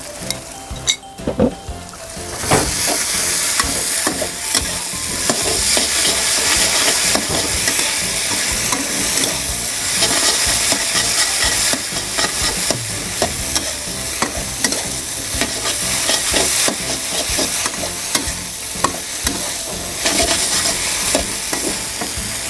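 Bean sprouts and spring onions stir-fried for pad thai in a hot pan give a loud, steady sizzle with constant scraping and tossing strokes throughout, with no one talking.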